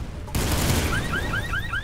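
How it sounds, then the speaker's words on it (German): Gunfire in the video game Soldier of Fortune: Payback breaks out as a loud, continuous burst of rapid shots, and a repeating, rising, wailing alarm tone comes in over it partway through. "Der ballert fröhlich vor sich hin."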